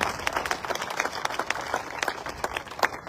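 Audience applause at a Rajput history speech event: a steady spread of scattered claps from the crowd, moderately loud and continuous across the moment, with no speech over it.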